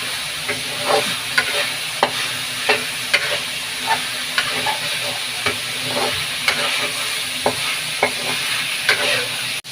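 A steady bubbling hiss of chop suey cooking liquid boiling in a pot on the stove, with repeated soft pops and clinks over a constant simmering roar.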